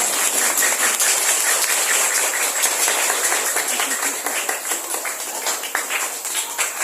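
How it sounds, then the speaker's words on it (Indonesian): Audience applause at a school anti-bullying workshop in an Indonesian elementary school hall, a dense, steady crackle of many hands clapping together, loud and sustained throughout without a break. "Bunda mohon tepuk tangan untuk Bu Yuli Farhandina"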